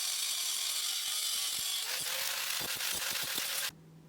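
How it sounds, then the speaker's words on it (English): Angle grinder cutting metal rods: a loud, harsh high-pitched screeching whine with gritty rattling bursts that stops abruptly, leaving a low hum of the motor winding down. "So what I've done is use my angle grinder"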